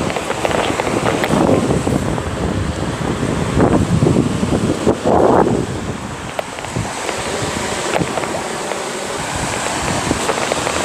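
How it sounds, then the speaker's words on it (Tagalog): Strong wind on a rocky seashore, a loud blustery rumble buffeting the microphone in gusts, with surf washing behind it and brief voices in the first half. "Mahangin. Mahangin po."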